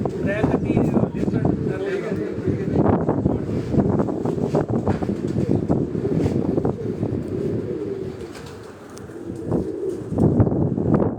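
Pigeons gather on a rooftop, including a baby pigeon, cooing intermittently amid gusty wind noise while someone talks over them throughout.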